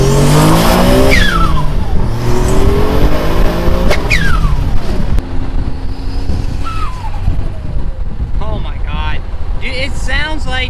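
A loud turbocharged Mitsubishi 3000GT or Dodge Stealth engine revs hard and shifts repeatedly, with sharp whooshing blow-off valve releases between pulls and a voice talking briefly over the roar.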